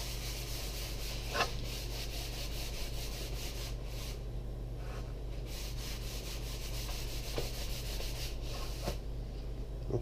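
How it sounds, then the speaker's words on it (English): Scuff sanding on maple and oak pieces before a blue dye is applied: a steady, continuous abrasive rubbing that runs the whole time, close and even, with a few brief louder scrapes. "I'm just gonna scuff sand these."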